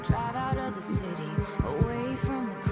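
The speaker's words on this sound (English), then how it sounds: "I heard it's her heartbeat." A rhythmic heartbeat thumps steadily, low pulses repeating about twice a second over a faint hum and background music, with no voices.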